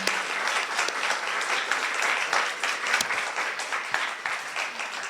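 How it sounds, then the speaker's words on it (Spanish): Guests at a book presentation applaud the invited speaker, producing a continuous, even wash of many hands clapping for about five seconds, with a few sharper claps standing out. "un aplauso para nuestro"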